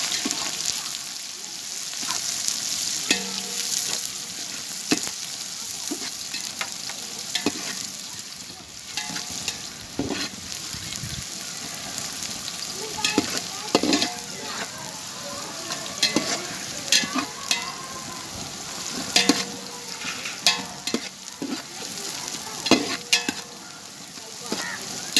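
Onions frying in oil for a mutton dum biryani, a steady hissing sizzle throughout, with frequent clicks and scrapes of stirring against the pan at a moderate distance and no talking.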